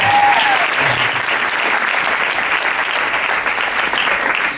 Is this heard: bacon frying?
no